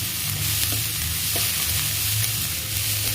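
Egg paniyaram mixture sautéed with salt in a pan, with a steady sizzle and soft stirring scrapes running continuously and close, no voices.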